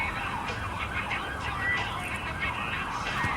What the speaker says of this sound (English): Did I need the siren as a point of emphasis?